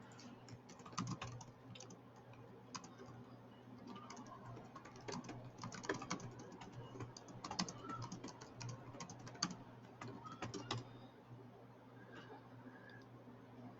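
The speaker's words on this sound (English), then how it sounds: "I was typing there" Quiet, steady typing on a computer keyboard, irregular bursts of soft key clicks over a low background hum, close and faint, with no voices.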